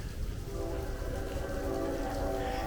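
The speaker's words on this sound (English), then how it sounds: "You can hear a train." A train rumbles past in an upstate New York village with a steady low roar and sustained tonal hum, continuous and moderately close.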